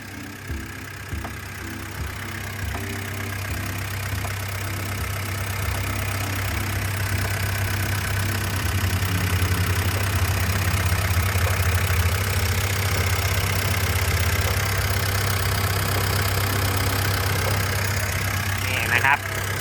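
A Komatsu WA100-7 wheel loader's diesel engine idles steadily with a low, even rumble and faint mechanical knocking throughout, close by and fairly loud.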